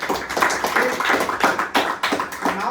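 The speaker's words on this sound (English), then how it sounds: "And please clap for chess number 3" Audience applause at a group discussion, a steady patter of many hands clapping fairly close, with sharper bursts recurring through the short stretch and no talk over it.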